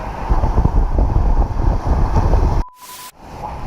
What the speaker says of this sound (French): Il y a du vent, ça avance très vite.